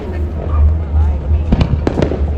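Fireworks pop and crackle in quick sharp bursts over a low rumble, with a voice speaking nearby.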